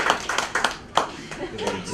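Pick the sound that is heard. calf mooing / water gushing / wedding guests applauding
wedding guests applauding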